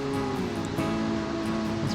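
A river on New Zealand's South Island west coast rushes steadily along, a continuous close wash of flowing water with no breaks.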